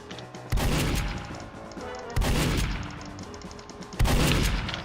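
Three loud, booming shotgun blasts come evenly spaced about two seconds apart in the Roblox game Mann Vs Machine, each blast trailing off into a rumbling tail.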